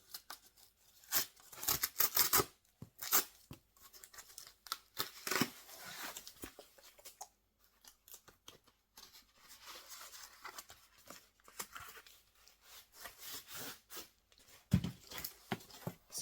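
Parcel holding a Prince picture-disc vinyl record being opened by hand, with bursts of tearing cardboard and tape, crinkling wrap and scissor-like snips spread unevenly over the stretch, close and fairly quiet, with no talk.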